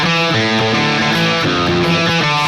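Electric guitar plays a riff, picked power-chord changes ringing out loud and close in a steady rhythm, with no talking over it.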